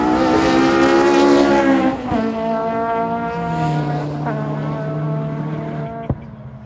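A Vauxhall Cavalier GSi classic touring car at Goodwood Circuit revs hard past the sound monitor, a loud, close engine roar whose pitch climbs and drops through gear changes.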